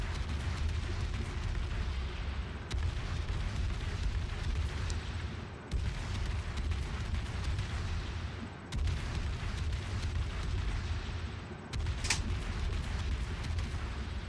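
Rapid naval gunfire from a Minotaur cruiser in World of Warships, a dense, continuous rumble of booming salvos with a few sharper bursts breaking through, loud and unbroken throughout.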